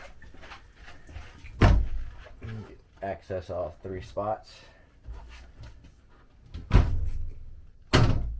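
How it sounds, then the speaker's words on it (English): Closet doors in a LUXE 42RL RV are opened and closed, with several sharp knocks and bumps of the doors against their frames while a person talks over the sounds. "And all three doors right here open, so it's nice and wide."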